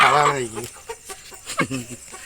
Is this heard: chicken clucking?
yes